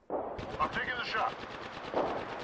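Automatic gunfire in the video game Apex Legends, a dense rattling burst of rapid shots with a second burst near the end, close and loud, with a voice talking over part of it.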